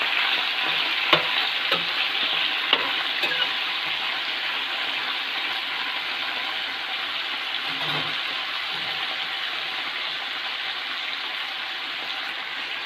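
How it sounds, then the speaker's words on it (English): Eggplant with mustard seeds and urad dal being stirred in a hot pan, a steady bright sizzle with occasional scraping clicks of the spoon, close and with no talk. "we have to mix these things together along with the mustard and the urad dal"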